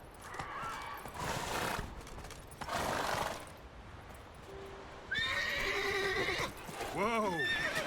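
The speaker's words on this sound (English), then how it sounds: "How did I summon my horse here?" Roach, a horse in The Witcher 3: Wild Hunt, lets out a close, loud whinny with a falling, wavering pitch near the end, after a steadier neigh-like tone, over busy game ambience and other noises.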